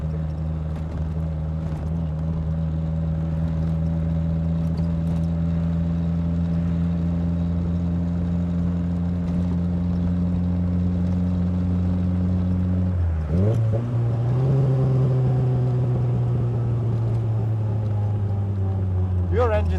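A Triumph Spitfire with a Monza exhaust drives slowly, its engine giving a steady deep burbling drone that briefly blips and rises in revs partway through, close and continuous.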